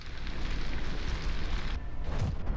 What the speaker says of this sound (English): The Hexadecapod's interiors are on fire.